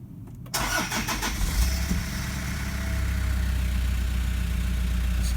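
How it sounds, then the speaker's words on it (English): A car engine cranks and fires up from stone cold right after new injectors were fitted, then settles into a steady, fairly quiet idle with a low continuous hum close by. "we've just changed the injectors and we're just about to start the engine"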